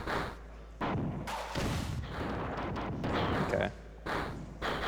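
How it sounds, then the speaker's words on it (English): Repeated rocket launcher blasts in the sci-fi shooter Marathon Infinity, a dense series of booming explosions and thuds running through most of the stretch with several loud bursts, busy game sound layered together. "I'm using the rocket launcher to clear out all these enemies"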